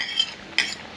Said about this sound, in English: You stir them.